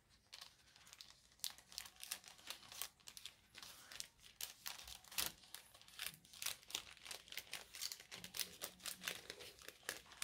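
Paper and small items rustle and crinkle as they are slid into a paper envelope pouch, a close, busy run of crisp rustles and taps with no talk.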